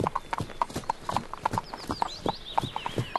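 Horses' hooves clip-clop in a steady, uneven rhythm on the ground among trees, fairly close and moderately loud, with birds chirping faintly in the background.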